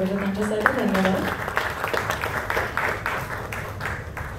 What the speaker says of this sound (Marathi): एकदा जोरदार टाळ्या झाला पाहिजे त्यांच्यासाठी